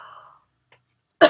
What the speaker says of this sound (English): And this time we cough.